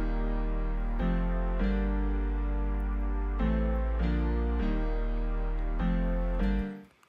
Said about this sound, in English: So those two elements with the piano sound like this.